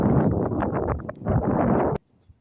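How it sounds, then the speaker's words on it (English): Strong gusts of wind at Dunwich, a Suffolk village, buffet the microphone in a low, rumbling roar that cuts off abruptly, leaving near silence. "A bit windy."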